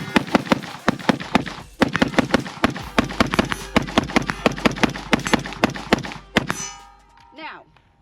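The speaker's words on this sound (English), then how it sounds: "Man, we tearing that steel up so you can barely hear it." AR-15 rifle rounds strike steel targets in rapid succession, each shot landing as a sharp metallic clang in a fast, irregular string that stops for a mag change, then trails off.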